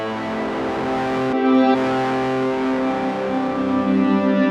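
Sustained distorted guitar chord through a Champion Leccy Kilter V2 pedal, swelling in volume, briefly cutting out, then ringing on with steady sustain; no talking.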